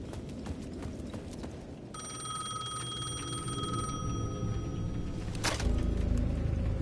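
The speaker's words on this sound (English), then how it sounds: "payphone at the edge of the plaza was ringing again." Payphone ringing in the video game Alan Wake 2, a steady electronic ring with sharp harmonic tones starting about two seconds in and continuing over a dark ambient game background, ending with a louder low rumble.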